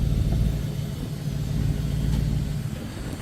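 A 2017 Porsche Panamera Turbo idles with a steady, low, even rumble close by for about three seconds, with no talking.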